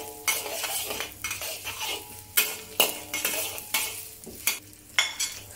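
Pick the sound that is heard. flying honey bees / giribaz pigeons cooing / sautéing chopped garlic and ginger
sautéing chopped garlic and ginger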